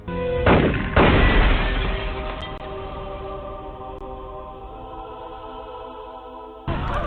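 Gunfire in an animated Batman: Caped Crusader episode: two heavy, booming blasts close together near the start, followed by a long ringing, fading tail with music underneath and a final hit at the end.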